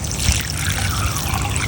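Water pours steadily into the reservoir of a self-watering garden planter, a continuous close trickle and splash with no pause.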